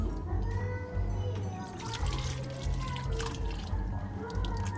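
Water runs steadily from a tap for foot washing in a house under construction, a continuous splashing stream close by with no talk over it.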